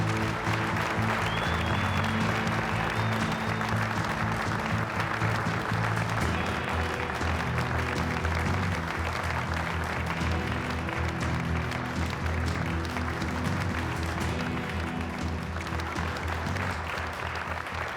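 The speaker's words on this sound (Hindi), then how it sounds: "अब मैं कोज़ान ब्रांड के मालिक अली कोज़ान को तालियों की गूंज के साथ स्टेज पे दावत देता हूँ।" Steady, dense audience applause fills a hall as a brand owner is welcomed onto the stage, continuous clapping without pause from start to finish.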